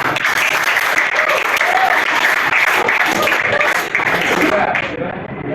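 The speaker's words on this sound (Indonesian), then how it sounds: "Tepuk tangan." Loud, sustained applause from a crowd clapping together, close and continuous, fading slightly toward the end.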